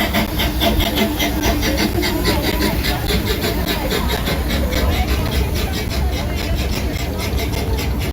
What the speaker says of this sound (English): They have both trains running.